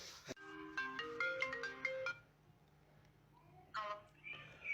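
A mobile phone ringtone plays a bright melodic tune for about two seconds before the call is answered, then resumes briefly, fairly quiet and indoors with faint voices around it.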